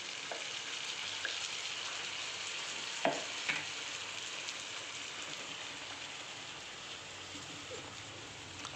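Water going into a hot pan of roasted semolina while making upma, producing a continuous hissing sizzle with a couple of sharp clinks near the middle, fairly quiet and without speech.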